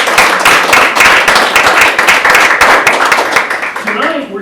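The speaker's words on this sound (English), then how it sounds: "Give yourselves a hand." A crowd gathered for a student reading night breaks into loud, dense applause that holds steady for several seconds, then begins to thin and trail off at the end, with some voices mixed into the clapping.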